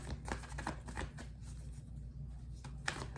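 Tarot cards being shuffled in quick riffling bursts close up, with soft flicking and tapping, a brief pause, then more shuffling.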